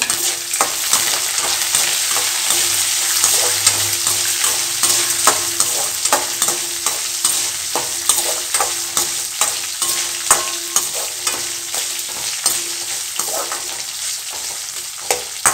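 Chopped big onions sautéing in a pan for guava chutney, a loud sustained sizzle with a rapid run of regular spatula scrapes and taps against the pan, steady and close throughout.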